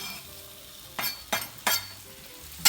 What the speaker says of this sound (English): I'm gonna get my pan on the burner, and I'm gonna add the mushrooms to